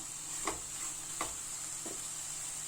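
Mushroom masala for kaalan kulambu being stirred in a hot pan: a constant soft sizzle with three evenly spaced scraping strokes, close and fairly quiet.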